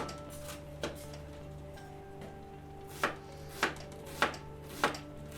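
A knife chops through half a red onion on a cutting board in a home kitchen: a few sparse, quiet knocks, then a quicker run of four sharper cuts, over a steady low hum.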